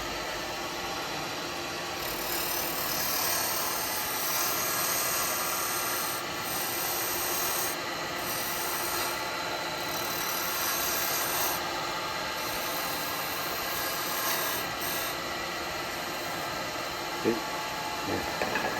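A square carbide tool scrapes a spinning wooden snowman lidded box on a lathe, producing a continuous rasping rub over a motor hum that swells and eases in passes, with a brief knock near the end.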